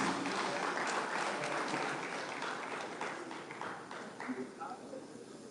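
A crowd at a live event claps in a steady, moderately loud burst that gradually thins out, with scattered individual claps near the end and faint voices underneath.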